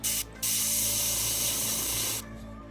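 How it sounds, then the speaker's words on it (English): A paint spray gun sprays at low pressure, about 15 psi, giving a steady loud hiss that starts, stops briefly, then runs for nearly two seconds before cutting off. "I'm at about 15 pounds right now, and this is how I'll be spraying that guy."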